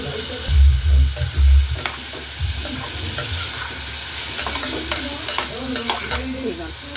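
Potatoes, green peas, tomato and green chili frying together in a pressure cooker: loud thumping stirs at first, then a continuous close sizzle with clicks and scrapes of a spoon, and no speech.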